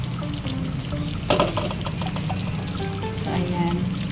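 Biko, a sticky rice cake with peanuts, being mixed in a pan, giving a thick, wet, moderately loud stirring and squelching that runs throughout, with one sharper scrape in the middle.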